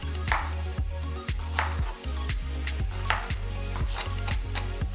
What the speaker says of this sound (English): Now we can chop this up.